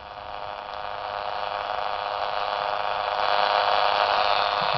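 A Bedini SSG lid motor runs, its sound carried through a radio as a steady buzzing hum with static hiss, continuous and slowly swelling louder, with no voices.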